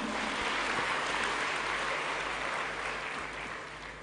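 Applause from a large audience at a university new-student orientation event, a dense steady wash of clapping that stays loud for several seconds and then begins to fade slightly toward the end.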